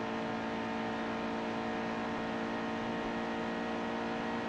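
Race car engine on a qualifying lap in NASCAR Heat 2, a loud, steady high-revving roar that drones continuously without pause, with no talking.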